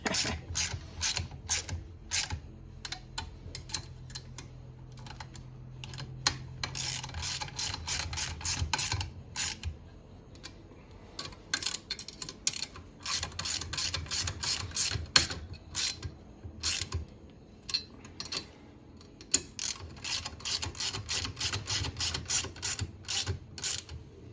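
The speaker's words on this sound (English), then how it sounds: "Guess it'd help if I put my wrench the right way" A ratchet wrench works on an airbag jack, giving rapid, crisp clicking in long runs with brief pauses, close and clear with no talk.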